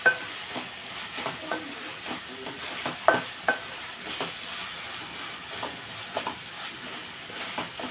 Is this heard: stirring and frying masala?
yes